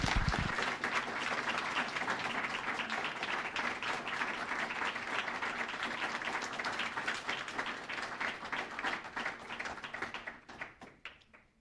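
An audience bursts into sustained, dense applause welcoming performer Frederick Hodges, holding steady for about ten seconds before thinning into scattered claps at the end.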